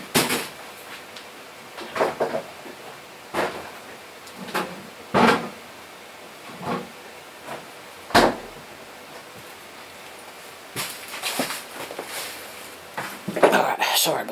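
A fridge door is opened to get a drink, heard as a scattered series of sharp knocks, bumps and clatters spread over several seconds in a quiet indoor room.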